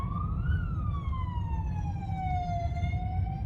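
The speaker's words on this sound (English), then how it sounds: "wait for this ambulance to go by." An ambulance siren passes on a street, a steady wailing tone that rises and falls under a rumbling traffic background, fairly distant and moderate in level.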